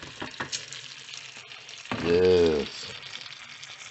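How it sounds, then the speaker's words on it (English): Chopped celery and onions fry in rendered bacon fat with a light crackle close by, while a voice briefly speaks over the middle. "now that that bacon has cooked down to a lovely consistency, yes, we're going to put in our vegetables, celery and onions"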